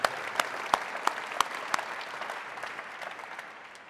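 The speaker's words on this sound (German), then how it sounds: "Das ist ein Applaus wert." Audience applause at a startup demo day event, a steady wash of clapping with a few sharp louder claps early on, gradually thinning and fading over a few seconds.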